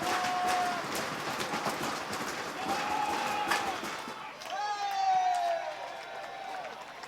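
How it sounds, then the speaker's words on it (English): Spectators at a baseball game stomp on metal bleachers along the first-base line, a loose, rumbling clatter of many feet that swells and fades under crowd noise and faint talk. "People stomping on the bleachers, the metallic bleachers down here on the first baseline"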